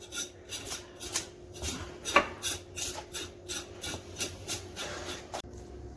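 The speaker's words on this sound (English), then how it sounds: "I'm scraping all these scales off." A knife scrapes scales off a striped bass in a run of short, rhythmic rasping strokes, close and fairly quiet, with no talk.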